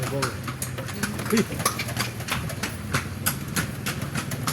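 Horse hooves clip-clop steadily on a street as the animal pulls a kalesa carriage along Calle Crisologo, the rhythmic knocks running beneath nearby people talking.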